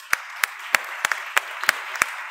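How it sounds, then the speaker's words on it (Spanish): Sparse, evenly spaced hand claps at a Spanish public-participation conference send a farewell round of applause to a guest: about seven crisp, fairly close claps in a steady rhythm over a soft room hum, with no talking. "Te vamos a despedir con este fuerte aplauso"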